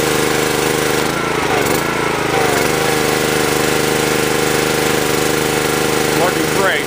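A Karcher pressure washer's engine drones steadily and loudly as the spray wand is used, a constant close mechanical hum with faint shifts in tone.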